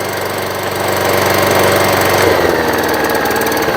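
A Hyundai petrol lawnmower engine runs flat out at maximum speed, a steady loud buzzing drone close by with a faint shift in pitch partway through and no talk.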